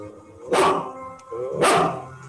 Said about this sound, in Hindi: तफतन कुत्ते के भौंकने की आवाज आई